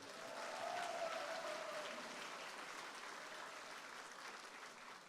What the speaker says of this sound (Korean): 박수 한번 맞춰주세요.